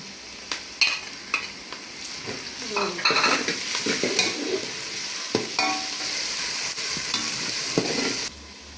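Ginger garlic paste sizzles and fries with onions in a hot pan while a utensil scrapes and stirs in irregular bursts, the sizzle holding steady before cutting off.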